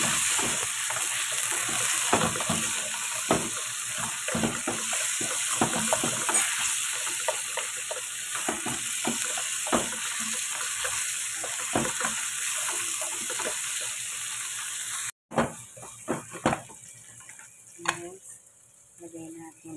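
Chicken stir-fried in a pan for spaghetti gives a loud steady sizzle with repeated scraping and clattering from stirring, then a sudden cut to quieter, sparser frying with a few louder knocks near the end.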